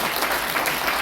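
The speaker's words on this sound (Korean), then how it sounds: "여러분 이때 박수 한번 치지 않습니까?" Dense, continuous clapping from an audience fills a brief moment at a launch ceremony in a press center hall, loud and steady without pauses.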